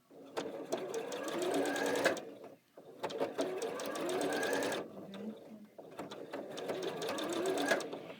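Sewing machine stitching two fabric pieces placed right sides together along a diagonal, running in three steady bursts of rapid mechanical clatter separated by brief pauses, close and fairly quiet.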